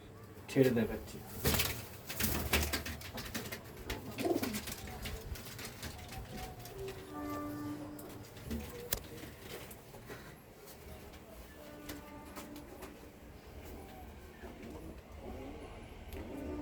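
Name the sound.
newly paired pigeons cooing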